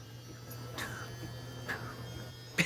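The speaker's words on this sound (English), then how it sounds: "we've got a little background noise going. It's the washer." A household washing machine runs in the room as a low, steady hum and drone, with a few faint clicks and knocks over the top.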